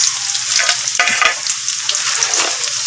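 Garlic frying in hot oil for pork adobo, a steady close sizzle with bubbling crackle and brief stirring scrapes throughout, loud with no talking.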